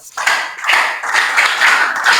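Students and guests at a kids' leadership panel discussion break into clapping for a young panelist, a quick ragged burst of hand claps that builds and carries on steadily at close range.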